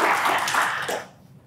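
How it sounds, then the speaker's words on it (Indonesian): Indoor audience applause at a Kejaksaan Agung Q&A event: a dense burst of clapping from a crowd that fades out after about a second. "Tepuk tangan teman-teman."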